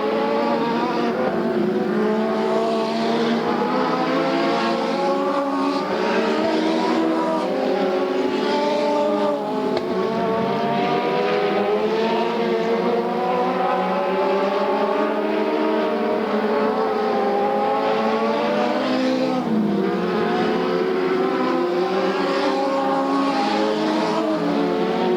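SCRA sprint cars race at Bakersfield, a continuous loud drone of several engines at high revs with wavering, overlapping pitches as cars circle the track, with no voices over it.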